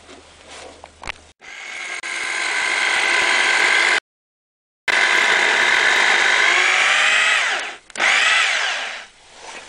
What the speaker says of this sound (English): and then we'll drill